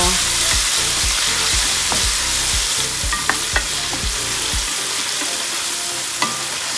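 Tomatoes stirred in a sizzling pan for pinakbet, with a spoon scraping in a steady repeating rhythm over constant frying hiss, close and loud, plus a few sharp clinks near the end.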